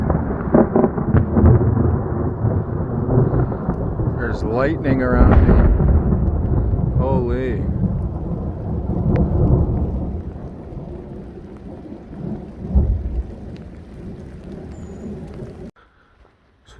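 Thunderstorm on the Pacific Crest Trail in Oregon, with steady rain and low rolling thunder rumbling through, a louder crack of thunder near the end, while a hiker talks and exclaims over it.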